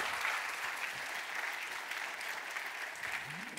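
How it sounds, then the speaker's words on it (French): Sustained audience applause at a business presentation, even and continuous but rather quiet and distant-sounding throughout. "Applaudissez Laurent et le lémurien."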